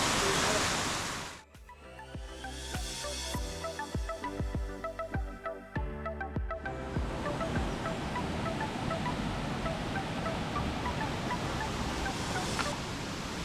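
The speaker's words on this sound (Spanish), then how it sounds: "Mucho salto de agua, una cocina guapa." Broadband rushing water from a waterfall tumbling down a rock wall into a river in the Foz de la Escalada gorge, steady and dense, with a burst of scattered clicks and knocks early on.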